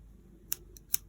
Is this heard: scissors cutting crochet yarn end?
yes